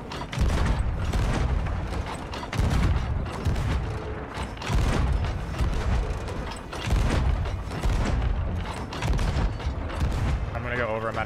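Repeated heavy booms of ship cannon fire in the video game Sea of Thieves roll out in a loose rhythm, each burst loud and rumbling, with creaking and clatter between volleys.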